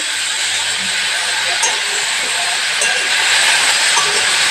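Sattu (gram flour) fries with onions, mushrooms and turmeric in a pan, giving a steady, loud, close sizzling hiss that barely changes, with a few faint clinks of stirring.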